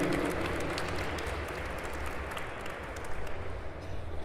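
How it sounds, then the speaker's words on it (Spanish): Applause from a conference audience at ExpoelectriB León 2017 greeting a speaker as he comes on, a dense and even wash of clapping that carries on for several seconds with no talk over it. "fuerte el aplauso para recibir al licenciado Eric Guerrero Rosas"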